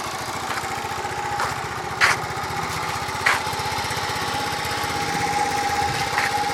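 A 1981 Honda C70 Passport motorcycle engine, just kickstarted, runs with a steady rapid putter close by, holding an even idle with a couple of brief louder blips.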